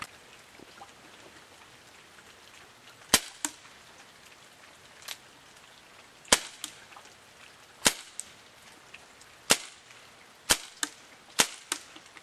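WinGun Super Sport M702 airsoft revolver firing at a target 68 feet away, about eight sharp cracks spaced one to two seconds apart, most followed by a faint echoing tap, over a soft hiss of background noise.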